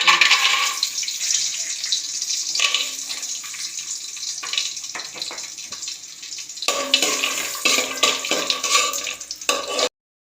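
Running water splashes steadily into a container while rice grains are swished and rinsed for biryani, loud and close, with a brief pause partway through.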